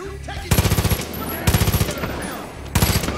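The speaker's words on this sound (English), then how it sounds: "Oh my god, I'm getting shot." Bursts of automatic gunfire in Far Cry 5, three loud rapid volleys of closely spaced shots separated by short pauses, with a faint game background between them.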